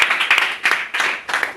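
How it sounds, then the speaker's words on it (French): A church congregation claps in praise, the clapping coming in several short, loud bursts separated by brief pauses. "On peut donner quand même quelques mains d'acclamation au Seigneur."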